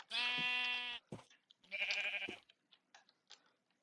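Two sheep bleats summoned in the Minecraft video game: a long wavering bleat, then a second shorter one, followed by faint scattered ticks, close and clear with no talk.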